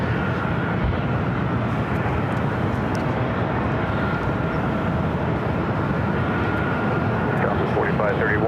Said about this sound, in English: Next arrival is United Airlines Flight 210 coming from SFO